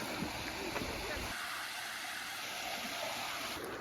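Water rushes and flows steadily by a fountain at a nature campsite in Bolu, as a continuous wash of stream-like noise close by. Voices can be heard faintly underneath.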